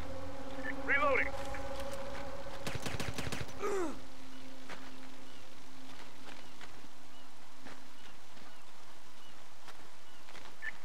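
Gunfire in the PSP game SOCOM U.S. Navy SEALs: Fireteam Bravo 3, a quick burst of sharp automatic shots mixed with brief voice-like calls, then quieter scattered pops over low ambient hum.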